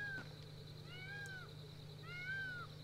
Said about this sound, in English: It's a noisy-ass cat.